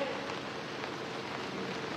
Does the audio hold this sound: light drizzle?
yes